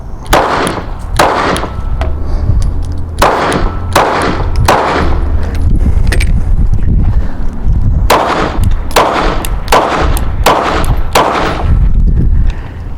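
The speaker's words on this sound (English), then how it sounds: "both of them felt really good shooting, or decent shooting two-handed" Springfield Hellcat pistol fired two-handed, sharp loud shots in quick irregular strings with brief pauses between groups, each report ringing briefly, no talking.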